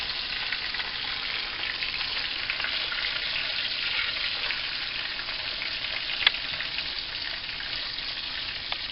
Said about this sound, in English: It's time to flip the schnitzel.